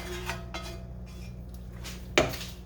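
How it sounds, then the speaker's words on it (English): A heavy skillet is shifted on a stovetop while making old-fashioned goulash: a few soft scrapes and clinks, then one sharper metallic clank near the end, close and fairly quiet. "Let's get this skillet out of the way."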